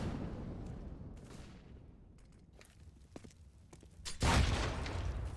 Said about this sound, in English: Ooh, meaty nade.